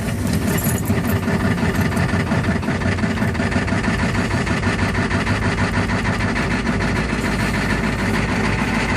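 A 1986 Ford 6.9 IDI diesel idling after a cold start, having sat out in the cold for a couple of weeks, with a loud, steady, rough clatter throughout and no pauses.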